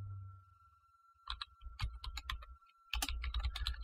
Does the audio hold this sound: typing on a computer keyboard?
yes